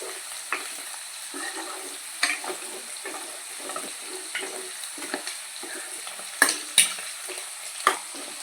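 Prawns fry in hot oil in a pan for a prawn pickle, a steady close sizzle with occasional stirring scrapes and sharper pops, and no voices.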